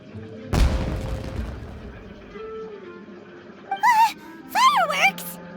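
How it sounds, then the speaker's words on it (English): In Genshin Impact, a booming firework burst hits near the start and then fades, followed later by whistling, rising squeals as more fireworks go off. "Was that an explosion? It sounded like fireworks."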